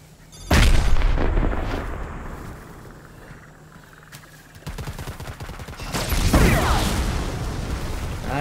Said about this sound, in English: Who threw a grenade?